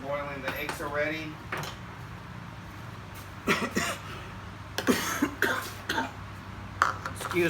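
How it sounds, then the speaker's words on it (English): A person with a morning cough lets out a few short, sharp coughs in a home kitchen while making macaroni and potato salad, with a voice speaking first and faint kitchen background between the coughs. "Somehow I have some sort of morning cough, although I'm not a smoker."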